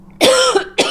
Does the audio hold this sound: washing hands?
no